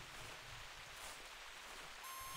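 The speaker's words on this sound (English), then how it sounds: "It's raining now." Rain falls in the hunting video game theHunter Classic, a faint, steady, even hiss with no distinct drops, continuous throughout.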